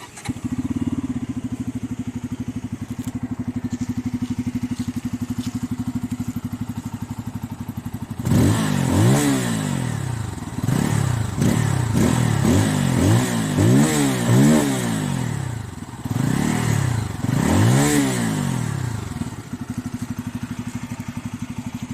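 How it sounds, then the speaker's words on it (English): A Bajaj Pulsar N250 motorcycle engine idles with a low throb, then fires into repeated sharp revs of the exhaust, rising and falling several times, close and loud. "let's fire it up and listen the exhaust note of this vehicle"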